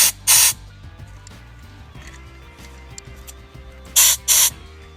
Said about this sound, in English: test each regulator that there's airflow